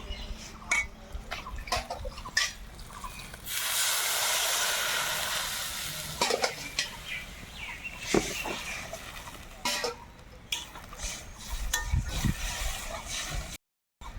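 A burst of loud steamy hissing erupts as water is poured into a hot pan of fried garlic and green chili, then settles into clinks, scrapes and lighter bubbling.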